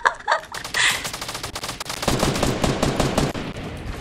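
Rapid gunshots in the battle royale game Fortnite, a fast rhythmic stream of loud shots with a few isolated reports at the start, fairly close and with no talking.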